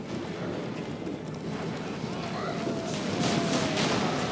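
Horse hooves clip-clopping in The Witcher 3 amid wind, battle noise and distant clashes, a muffled running rhythm under a busy game soundscape that swells slightly toward the end.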